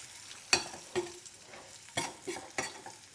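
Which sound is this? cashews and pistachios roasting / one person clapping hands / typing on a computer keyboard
cashews and pistachios roasting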